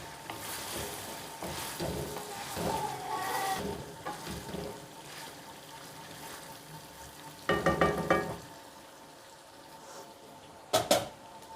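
Chicken karahi with red chili and black pepper being stirred in a pan, soft sizzling with scraping strokes of a spoon that swell in short bursts, plus a couple of sharp clinks near the end.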